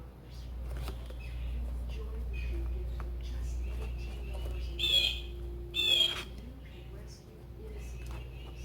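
Several birds chirping and calling at a Cornell Lab feeder, played back from a feeder camera, with a couple of louder bursts of chatter over a low steady hum.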